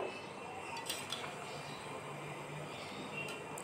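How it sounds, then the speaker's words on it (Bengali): Chicken pieces being sautéed and pressed with a spoon in a pressure cooker, faint metallic scraping and occasional clinks over a low sizzling hiss, close and without voices. "তো চিকেনটাকেও এবার ভালোভাবে কষিয়ে নেব আর চাপা দিয়ে দিয়ে কিন্তু মাংসটাকে কষাবো।"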